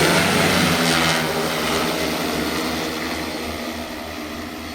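An agricultural spraying drone flies nearby, its rotors giving a loud, steady buzzing drone that slowly fades a little as it moves away. No one speaks.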